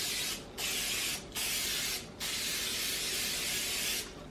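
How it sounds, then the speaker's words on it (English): Cooking spray hisses onto a pan in four steady bursts separated by short pauses, close and fairly loud. "All right, so we're gonna make sure that is sprayed down."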